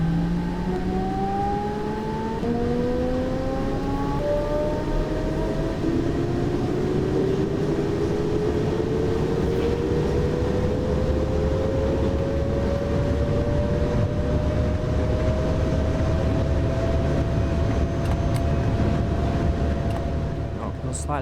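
An electric train in Train Sim World on the Rhein-Ruhr line accelerates steadily, its motor whine climbing slowly in pitch over a constant rumble of wheels and track, heard close and loud without pause.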